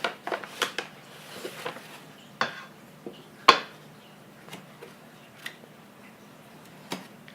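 Bread dough ingredients stirred in a bowl make sparse, irregular knocks and clacks of a utensil against the bowl, close but fairly quiet, with one sharper hit partway through and soft scraping between strokes.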